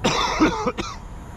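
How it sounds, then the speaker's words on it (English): A short burst of harsh coughing from someone who inhaled bugs while out fishing, two or three rough coughs in quick succession, close and fairly loud. "I'm still coughing up bugs."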